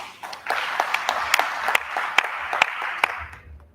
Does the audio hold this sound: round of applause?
yes